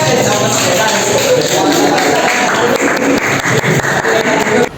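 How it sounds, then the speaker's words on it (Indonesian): An audience at a presentation on Hindu religious education teaching methods gives loud, dense clapping that runs for several seconds, with faint voices mixed in. "sekali tepuk tangan dulu Pak"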